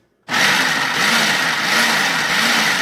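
A food processor starts abruptly and runs continuously at full speed, pulsing food until smooth, with a loud, steady whirring motor and chopping roar.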